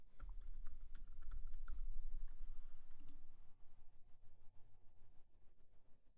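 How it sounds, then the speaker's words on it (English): A password is typed on a computer keyboard, a rapid run of soft close key clicks that thins out toward the end, over faint room hum, no talking. "it needs my password, so I'm going to enter that in here"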